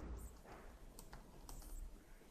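Faint keystrokes on a computer keyboard as a command is entered into a package manager console, heard as a few soft clicks over steady low background hum.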